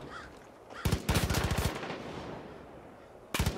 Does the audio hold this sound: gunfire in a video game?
yes